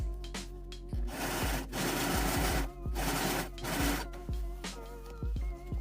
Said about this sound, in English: serge or stay stitch both sides of the skirt